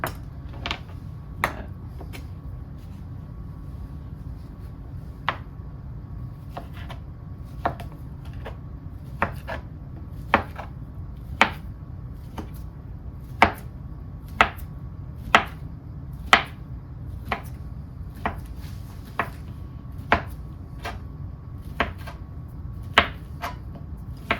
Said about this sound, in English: I'm gonna get these just kind of diced